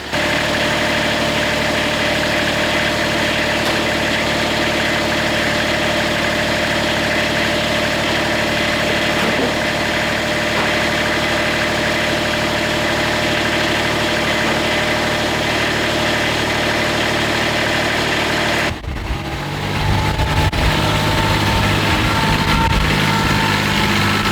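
A Kubota tractor engine idles steadily through a cold warm-up, a continuous droning rumble with faint vibration, loud and close with no talking; near the end the tone shifts and deepens as the engine settles.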